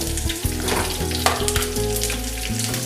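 Chopped shallots frying in oil with fenugreek seeds for a Kerala mango pulisheri, a steady close sizzle with a few stirring knocks and clatters, no talk.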